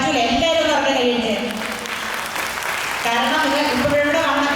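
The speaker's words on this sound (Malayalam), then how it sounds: "എല്ലാവരും ഒന്ന് പറഞ്ഞ കൈയടിച്ച്" Clapping rises from an audience at a school annual day celebration, a broad wash of applause under a speaker who keeps talking over it, fading briefly in the middle before swelling again.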